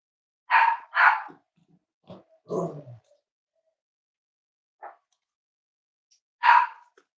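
A Cavalier puppy gives a few short, sharp barks in quick pairs, with a softer yelp or two between and quiet gaps, close by in a hushed room.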